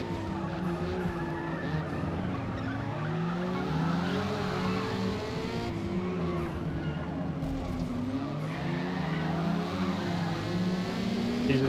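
Race cars, including a BMW and a Lamborghini, run on the Fujimi Kaido road course in a racing video game, with engines droning and revving continuously, shifting pitch, plus tire squeal, under a voice.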